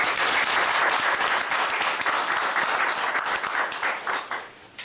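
A crowd at a political gathering applauds for deputy secretary-general Jacques Lungwana with dense, loud, sustained clapping that fills the space and fades slightly at the end.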